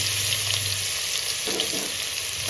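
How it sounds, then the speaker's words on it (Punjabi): Cumin and ground spice masala fry in hot oil for a Punjabi turnip sabzi, giving a steady, loud, continuous sizzle with faint stirring partway through. "ਹੁਣ ਆਪਾਂ ਇਸ ਦੇ ਵਿੱਚ ਮਸਾਲਾ ਪਾਵਾਂਗੇ"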